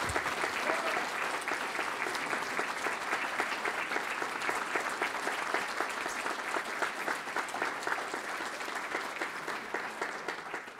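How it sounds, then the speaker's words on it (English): A large conference crowd at a conservative awards event gives sustained, even applause, a continuous roar of many hands clapping that holds steady throughout at a moderate distance. "I would ask you to join me in a round of applause for Steve Bannon and Dave Bossy and their vision."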